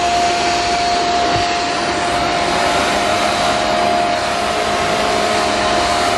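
A vacuum cleaner runs steadily in an electronics superstore, a loud continuous motor whine with a fixed high tone holding level throughout.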